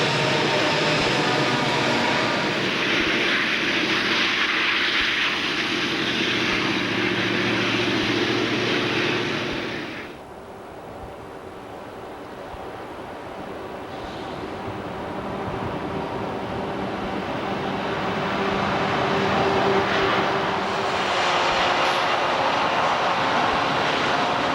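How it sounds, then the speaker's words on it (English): Pennsylvania Railroad coal train 11A, running between Reading and Conway, PA, on a three-track main line, blasts past close by as a loud, steady roar for about ten seconds, then falls to a lower, continuing rumble. "Train 11A blasts by, operating between Reading and Conway, PA."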